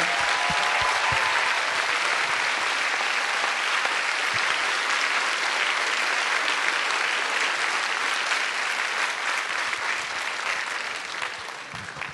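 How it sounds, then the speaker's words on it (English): Sustained, dense applause from a large concert audience honoring veterans at a high school veterans concert, steady and loud throughout before tapering slightly at the end. "Give everyone a big round of applause."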